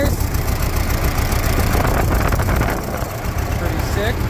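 Engine of a Farmall H tractor with a seized valve, running steadily with a loud, rough, continuous rumble throughout.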